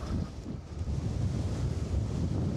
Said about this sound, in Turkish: Aşırı bir rüzgar var.